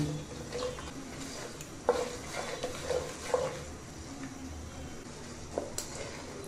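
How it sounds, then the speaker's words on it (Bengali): Bay leaves, whole dried red chillies and panch phoron fry gently in oil for a mango pickle, a faint low sizzle broken by sparse spoon clinks and scrapes against the pan as the spices are stirred. "এবার একটু নেড়ে চেড়ে হালকা ভেজে নিব"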